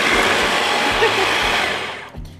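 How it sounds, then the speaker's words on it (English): A food processor whirs loudly as it finely chops walnuts, a dense steady motor roar that winds down near the end, with faint voices underneath. "We're gonna put the walnuts into the food processor and we're going to finely chop these walnuts"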